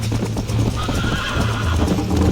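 A horse in the Western video game Red Dead Redemption gives a loud, close whinny over steady hoof clip-clop, the neigh wavering across the whole short stretch.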